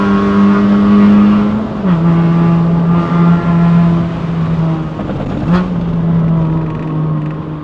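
Honda Fit RS with a six-speed manual, loud engine drone with revs dropping and rising through downshifts, including a sharp blip around mid-clip.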